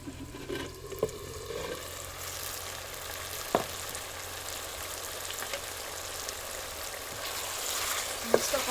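Potato curry (billa bateta) cooking in a pan, giving a steady low sizzle with a few scraping clinks of a spoon stirring, close by and fairly quiet throughout.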